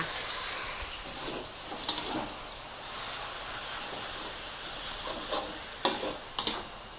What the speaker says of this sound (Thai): การก็จะใส่ในส่วนของ วุ้นเส้นค่ะลงไป ตามด้วยน้ำซอสนะคะ